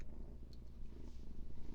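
A cat purrs softly and steadily, a low rhythmic rumble continuing close to the mic throughout, with no talking.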